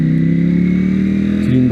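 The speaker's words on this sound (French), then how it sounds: "le petit coup de gaz qui te rétrograde la vitesse au top" A Ducati Panigale V4S engine drones loud and close under load, then the pitch jumps sharply as the throttle is blipped for a quickshifter downshift near the end.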